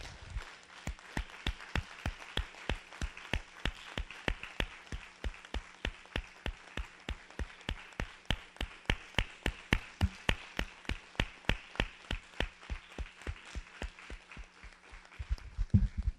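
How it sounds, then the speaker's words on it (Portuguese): A church congregation claps for those who died and their families. The clapping comes as slow, rhythmic, unison claps, evenly spaced and moderately loud, lasting about sixteen seconds. "E eu queria pedir a você uma grande salva de palmas a essas vidas que se foram e seus familiares."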